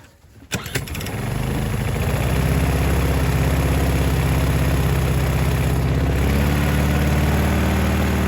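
A small petrol generator with its choke set starts after a couple of sharp pulls, then settles into a loud, steady, close-up engine drone that runs on without pause.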